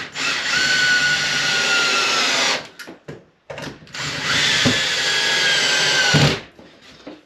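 Screws driven into wooden shed furniture pieces with a power drill: two long, steady whirring bursts separated by a brief gap with a few clunks, fairly close and loud, without talk.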